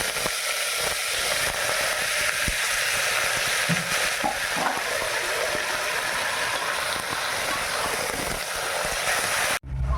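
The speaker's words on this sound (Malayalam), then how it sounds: "അതിലേക്ക് 1/2 കിലോ എല്ലോട് കൂടിയ ചിക്കൻ പച്ചമണം പോകുന്നത് വരെ വറുത്തെടുക്കും" Half a kilo of bone-in chicken fries in hot oil with bay leaf, cardamom and cinnamon, giving a loud, continuous close sizzle that cuts off abruptly just before the end.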